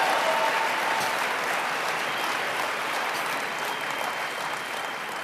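Audience at a network marketing speakers event applauding themselves, a dense, sustained wash of clapping at even loudness from start to finish, with no talk over it.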